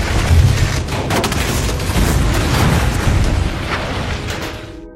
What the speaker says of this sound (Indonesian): tepat saat pesawatnya jatuh dan meledak